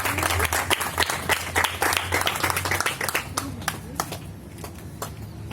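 Audience at an Independence Day ceremony claps to welcome the chief guest, a brisk round of many hands that starts strong and gradually thins out toward the end.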